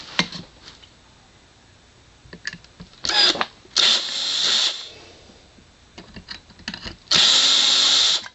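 Power drill with a 5/32 inch bit boring into a PWM computer case, several short whirring bursts separated by pauses, the last run sustained and loud.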